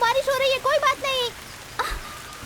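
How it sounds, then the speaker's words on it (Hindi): Rain falls as a soft, steady hiss in a film scene, with a voice calling out over it in short bursts before the rain carries on faintly alone. "अरे बारिश हो रही है"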